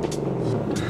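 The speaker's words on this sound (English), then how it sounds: "LS1 sounds amazing in that car" Engine note of a BMW E30 fitted with a swapped-in LS1 V8, a steady, close rumble held for under a second with no talk.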